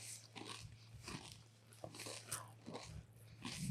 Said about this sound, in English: They love to hear chewing.